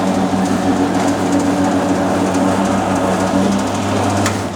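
A noodle cutting machine runs steadily, feeding and slicing lamb noodle dough with a continuous mechanical whir and a faint rhythmic clatter, close and unbroken, with no talk.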